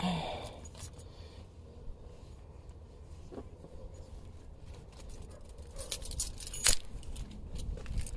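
Truck keys jangling, a few light metallic clinks and rattles spread over a quiet interior, with a sharper burst of jingling near the end.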